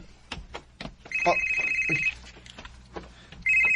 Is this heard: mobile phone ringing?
yes